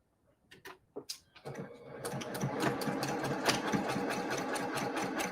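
Sewing machine stitching a quilt, starting with a few slow separate stitches, then running into a fast steady mechanical chatter close by.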